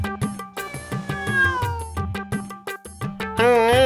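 Cat meowing repeatedly in close, clear calls, several drawn-out mews in a row ending with a louder, wavering yowl.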